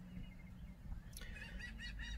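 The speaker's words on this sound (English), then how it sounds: "sunny, and seagulls chirping in the background" Seagulls call in the background on a sunny day in New Jersey, a few faint, distant cries rising briefly over low, steady outdoor ambience.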